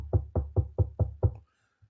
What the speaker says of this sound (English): There's a knock at the door with the dogs.